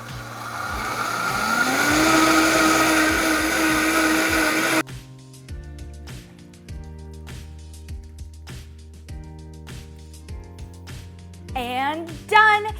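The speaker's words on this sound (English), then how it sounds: "Now that everything is in your blender, go ahead and blend it all up until it's nice and creamy." A blender whirs loudly for about five seconds, blending gingerbread latte ingredients until creamy, then cuts off abruptly and gives way to music.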